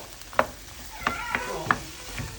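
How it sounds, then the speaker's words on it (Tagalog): A spoon stirs vegetables in a pan for giniling, a ground pork dish. A few quick scrapes and clicks sound over a soft, steady sizzle, close and moderately loud. "Mix it well."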